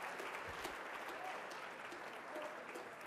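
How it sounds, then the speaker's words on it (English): Steady applause from a large conference audience fills the room throughout, an even dense patter of clapping with no pauses and no speech over it. "This is the first time in history that more than 6 people have applauded the words building code."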